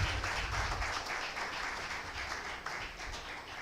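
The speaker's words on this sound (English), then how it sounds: "Please, a round of applause for her." Applause from the audience at a law week session, a soft, continuous patter of many hands heard at moderate distance and slowly easing off.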